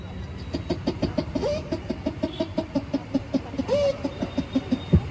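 A performer vocally imitates a chicken, a rapid rhythmic run of clucks with a couple of rising squawk-like calls, close and fairly loud against a faint hiss.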